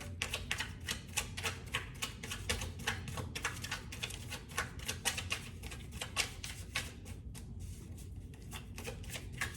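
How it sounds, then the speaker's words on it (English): Tarot cards being shuffled and drawn from a deck during a reading, a steady run of dense, crisp papery flicks and riffles close up for the whole stretch, no talking. "I'm going to pull one more card."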